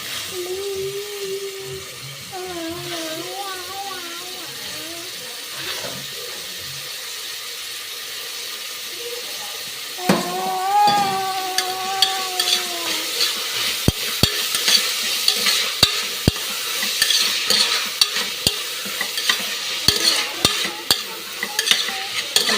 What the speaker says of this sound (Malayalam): ഗ്രീൻ പീസ് കണ്ട, ഇതും കൂടെ ഇട്ട് നമുക്ക് വഴറ്റാം.